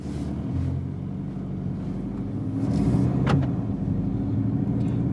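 A 2018 Volkswagen Golf 7.5 GTD drives in sport mode, with a steady engine and road hum from inside the car that grows slightly louder midway, and no voices.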